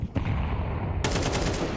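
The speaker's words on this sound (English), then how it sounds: "Exchange of bullets towards middle as well" Counter-Strike 2 gunfire exchange: loud rapid bursts of shots crackle close in, with a second volley breaking out partway through.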